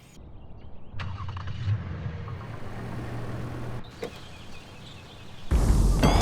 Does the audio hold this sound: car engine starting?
yes